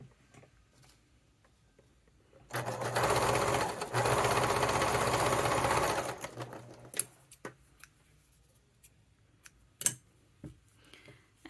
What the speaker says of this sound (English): And then I will sew it. I always lengthen my stitch for this because it's going through so many layers.